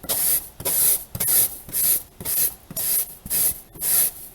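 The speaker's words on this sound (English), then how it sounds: "So what I'll do is I'll just rub the balloon on the cloth," A balloon rubbed back and forth on a cloth, eight loud rhythmic hissing strokes about half a second apart, close up with no talking.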